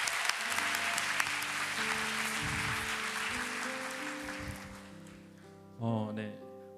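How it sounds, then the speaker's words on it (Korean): A church youth congregation claps to welcome an evangelist to the front, steady applause under sustained keyboard chords, fading toward the end before a brief louder swell. "우리 전도사님 나올 때 큰 박수로 환영하도록 하겠습니다"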